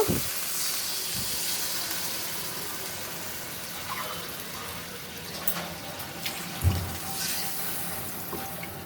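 Water poured into a pan of sautéed potatoes and spices for a fish curry, giving a steady close hiss and rush of liquid hitting hot oil, with a few soft knocks near the end.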